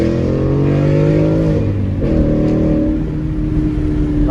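A loud E85-fueled Ford Mustang GT accelerates hard from a 40 mph roll, its V8 engine note climbing steadily in rising harmonic sweeps with a brief shift midway, close and continuous.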